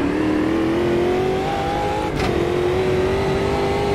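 A Chevrolet Cruze Stock Car 2020 engine in Automobilista 2 drones loudly and close, climbing in pitch, dropping briefly as it shifts, then pulling steadily higher again.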